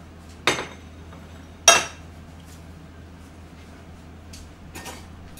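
Two sharp ceramic clanks of dishes, with a few fainter clinks after, as braised cutlassfish is moved onto a plate in a quiet kitchen.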